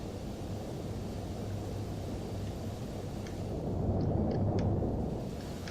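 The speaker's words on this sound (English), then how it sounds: "it's taxiing nicely down to the runway." An airliner taxiing toward the runway at Bristol, likely within a flight simulator, gives a steady low engine rumble that swells slightly near the end, with faint clicks above it and no talk.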